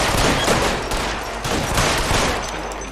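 Continuous dense gunfire in the 1940s Los Angeles crime game L.A. Noire, loud overlapping shots and crackling volleys filling the whole stretch with no speech.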